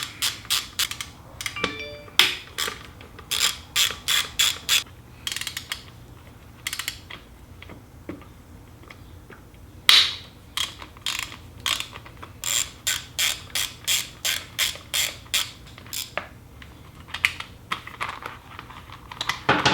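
Ratchet wrench working on 5mm Allen bolts holding the heat shield of a WR250R motorcycle, rapid bursts of clicking separated by short pauses, close and clear, no speech.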